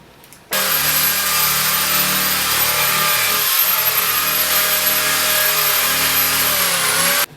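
A power drill spins a brushing attachment across a snowboard base during waxing, making a steady, loud whirring drone that runs unbroken for about seven seconds before cutting off.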